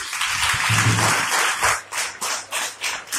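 A church congregation at a New Year service claps together, first as a dense wash of applause and then settling into loud, rhythmic bursts of hand claps.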